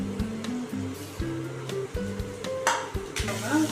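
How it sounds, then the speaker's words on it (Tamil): Onions fry in hot oil with a steady sizzle, while a spatula scrapes and clatters against the pan in repeated strokes, close and fairly loud with no talking. "ஆயிலை ஊற்றிட்டு ஃபர்ஸ்ட்டு ஆனியன் போட்டு நல்லா"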